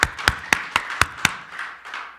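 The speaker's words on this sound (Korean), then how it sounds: "우리 박수 한번 합시다." A church congregation claps in slow unison, about six sharp, evenly spaced claps at close range before the sound softens into a looser, fading patter.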